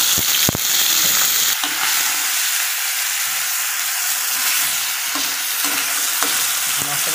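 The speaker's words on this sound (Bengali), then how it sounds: "তো দেখো মাছ দিয়ে দিয়েছে কড়াইতে।" Bhola fish fries in oil in a wok, giving a loud, continuous close-up sizzle with a few sharp clinks of the spatula as it is stirred and turned.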